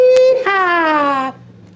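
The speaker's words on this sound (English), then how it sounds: "That's my horn on GTA 5. Boots of Hazard Rebel horn." A Boots of Hazard Rebel car horn from GTA 5 sounds as one loud held tone with a brief drop partway through, then cuts off abruptly.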